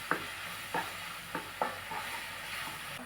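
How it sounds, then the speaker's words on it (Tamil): Mashed banana and coconut fry in ghee as a spoon stirs through the pan, with a steady soft sizzle and several distinct scraping strokes at irregular intervals, close and fairly quiet. "வாழைப்பழத்தை நல்லா நெய்யிலேயே மசிஞ்சு வதக்கியாச்சு"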